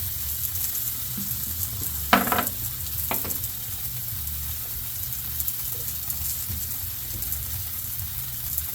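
Shrimp sizzle on a griddle with a steady, close frying hiss throughout, broken by two short scraping clatters near the middle as they are lifted off.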